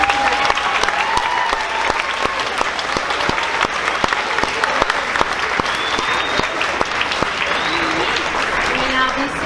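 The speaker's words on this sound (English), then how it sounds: "Please give a huge round of applause." A dense burst of clapping from an audience at a sixth-grade graduation ceremony, loud and continuous with sharp individual claps standing out, and voices mixed in.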